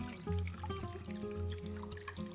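Water trickles and splashes in short uneven pours into a pot holding a soy-sauce-rubbed pork shoulder, a soft, close liquid sound with gurgling pitch changes as it fills.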